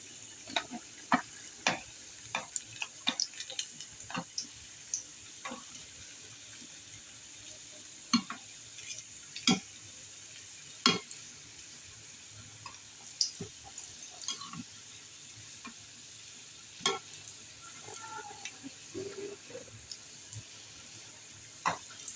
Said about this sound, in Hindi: ये देखिए, कितनी अच्छी फ्राई हो रही है।